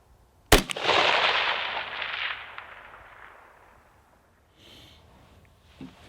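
A single rifle shot cracks sharply during long-range shooting in wind, followed by a long rolling echo that fades over a few seconds, with faint noises afterward.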